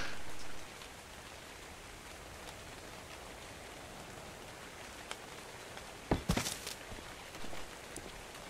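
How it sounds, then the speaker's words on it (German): Rain ambience in the video game ARK, a steady soft hiss of falling rain with scattered drops, joined by a brief burst of louder rustling and spattering near the end. "Ich habe ein Regengeräusch bei mir, aber kein Regen."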